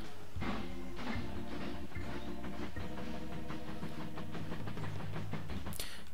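A train rolls along in the Machinky video game, a steady mechanical rumble with a low droning hum and repeated rhythmic clatter running throughout, close and continuous.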